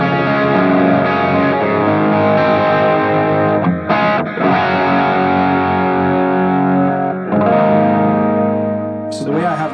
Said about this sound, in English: Bit of a lo-fi, low fidelity delay repeat there.